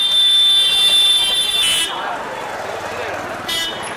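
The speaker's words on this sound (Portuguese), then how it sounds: "porque eu tô competindo com as buzinas" Vehicle horns sound in a busy street market in Chickpet, Bangalore: a long loud blaring tone, then a shorter second honk over traffic noise.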